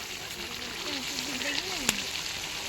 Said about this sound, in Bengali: শুধু মাংসটা আর উচ্ছে আলুটা ভাজছি